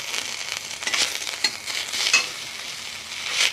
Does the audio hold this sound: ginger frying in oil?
yes